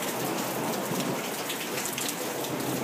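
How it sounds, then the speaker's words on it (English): Heavy rain pours steadily in a dense, unbroken wash during a severe thunderstorm in Lancaster, California, with low thunder rumbling beneath and no voices. "Maybe tonight if the rain lets up and this lightning and thunder goes away."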